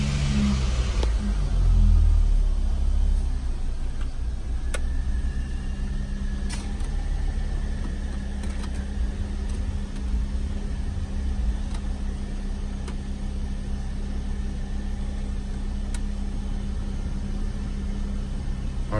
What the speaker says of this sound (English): let's get the car started and we'll see if the aircon works.